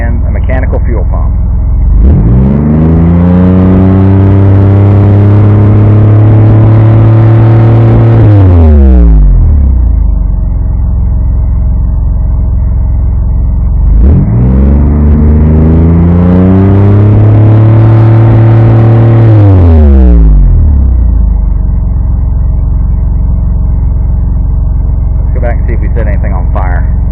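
A carbureted 3.0 engine with a Hall effect distributor and mechanical fuel pump revs up twice in long sweeping pulls, each rising and falling back to a loud steady idle, recorded close.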